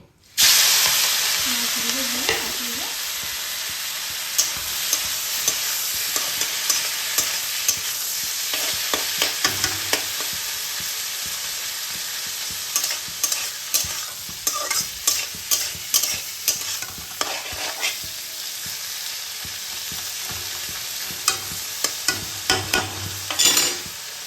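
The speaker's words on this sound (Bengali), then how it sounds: "কড়াই গরম করে প্রথমে তেল দিয়ে চিংড়ি মাছটাকে ভালো করে" Shrimp frying in hot oil in a wok while a utensil stirs and scrapes it: a continuous sizzle with repeated sharp clinks and scrapes that come quicker and louder toward the end.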